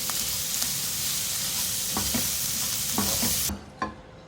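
Chopped green chillies stirred into sizzling samosa masala in a hot pan, with steady frying hiss and several scraping spoon strokes, ending as the heat drops.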